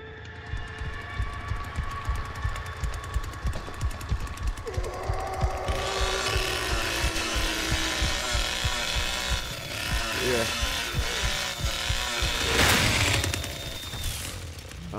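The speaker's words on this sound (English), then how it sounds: "the chainsaw stalled" A chainsaw in the Texas Chainsaw Massacre video game revs hard with a rapid, rattling engine buzz that holds steady, then sputters and cuts out near the end, mixed with other game sounds.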